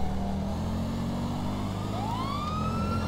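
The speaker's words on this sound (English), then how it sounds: "there's my police sirens and stuff like that" Police car sirens in the GTA LSPDFR mod video game wail under steady traffic and engine noise, with a rising siren sweep partway through.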